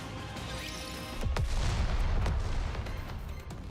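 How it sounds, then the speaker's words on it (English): Distant explosions and gunfire inside the video game Nikke: a couple of sharp booming bursts cut through a steady low rumble of battle, heard from afar with no talking. "An explosion sounds from afar."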